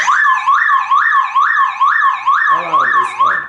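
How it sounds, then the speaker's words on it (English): A Toyota Camry car alarm siren wails loudly and close up in a repeating rising-and-falling cycle of about seven sweeps, with a brief muffled voice underneath near the end. "alarm is on."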